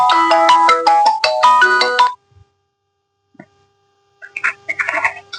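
A phone ringtone plays a bright, chiming melody for about two seconds, stops briefly, then starts ringing again.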